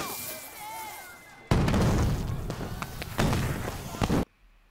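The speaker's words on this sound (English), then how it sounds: "Yay! Feuerwerk." Fireworks in the 2020 war film The 800 erupt after a quieter stretch, a dense, loud run of cracks and booms lasting about three seconds before cutting off abruptly.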